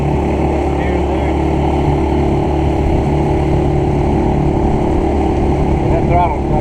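A motorboat engine drones steadily and loudly throughout a boat test, with strong wind noise and a voice speaking over it.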